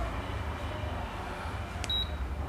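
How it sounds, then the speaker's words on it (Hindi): A short electronic buzzer beep sounds once from an induction cooktop's control board during an IC test on the repair bench, a brief clear tone over a low steady hum. "बजर का आवाज़ आया।"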